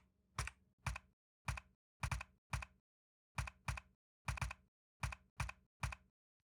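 Individual keys clack on a computer keyboard as a security key is entered, about a dozen crisp, evenly paced presses with one short pause, close and quiet, with no talking.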